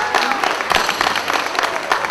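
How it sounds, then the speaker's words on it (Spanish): Wedding guests clap together in a loud, close burst of applause that stays even throughout. "Pido un aplauso para ella."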